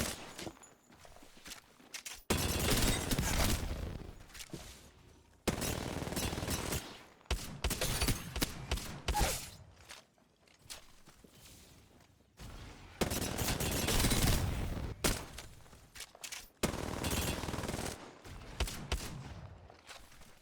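Weapons fire in Apex Legends during a practice routine comes in repeated rapid bursts of shots separated by short quiet gaps, crisp and close, with footstep-like movement between volleys.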